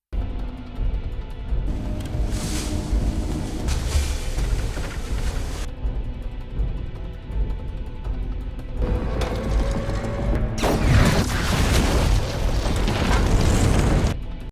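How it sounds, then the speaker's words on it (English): A film-scene explosion roars loud and continuous for the whole stretch, a dense rumbling blast with sharp fresh bursts flaring partway through and near the end, and no voices. "Resnick, killed in an explosion."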